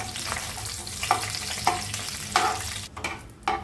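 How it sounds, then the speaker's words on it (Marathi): Almond slices fry in a little ghee, a continuous close sizzle broken by several sharp scrapes and clinks of stirring at a loose, uneven rhythm. "ते मी तळून घेते तुपात।"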